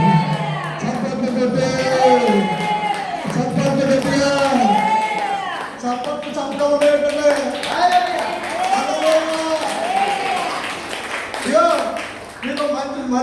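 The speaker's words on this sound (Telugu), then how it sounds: "చప్పట్లు" Congregation at a church service clapping and cheering together with loud voices and shouts, a busy crowd sound running throughout the clip under overlapping vocal activity.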